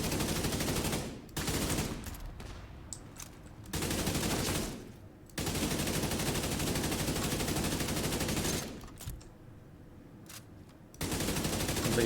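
Sustained automatic gunfire in the Division 2 video game, long dense bursts of rapid shots held down for seconds at a time, broken by brief pauses with scattered single reports.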